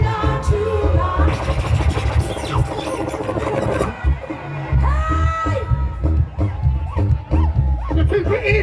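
A lively crowd at a Jamaica independence celebration in Lake Worth, Florida, cheers and whoops in loud bursts mixed with babble and shouted voices, close and continuous with music-like tonal cries rising through it.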